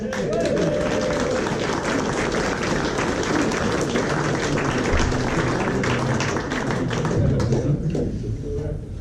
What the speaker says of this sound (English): let's give a big round of applause for the cover